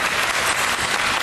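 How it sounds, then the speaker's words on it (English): Dense audience applause at a food and wine festival event welcomes a new executive chef, a loud, even wash of clapping throughout the short burst. "A big round of applause for Chef Michael."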